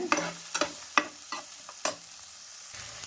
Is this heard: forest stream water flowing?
no